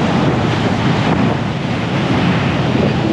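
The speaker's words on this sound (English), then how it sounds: "the wind is terrible right now" Strong wind gusting across an Outer Banks beach at low tide, buffeting the microphone in a constant loud rumble over the wash of surf and waves.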